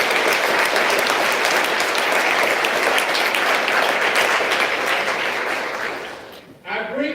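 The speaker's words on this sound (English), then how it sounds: "Please give them a round of applause." A crowd claps steadily in dense, sustained applause that fades out near the end, where a voice begins speaking.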